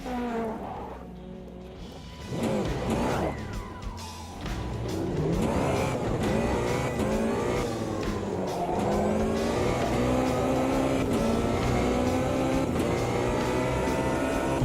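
A race car engine in the Automobilista 2 sim revs and accelerates, the pitch climbing through gear changes at moderate, steady loudness, with a brief lull near the start before the engine swells and keeps droning.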